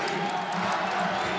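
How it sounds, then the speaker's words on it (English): Basketball arena crowd on its feet during a men's college game against Utah Valley, a steady loud roar of many voices filling the space without a break. "Crowd on their feet."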